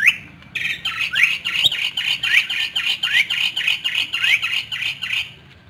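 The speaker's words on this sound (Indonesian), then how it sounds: "hmm, burung jalak nih" Starling at Borobudur giving a long series of rising squawks, evenly spaced and rhythmic, loud and close for several seconds before stopping.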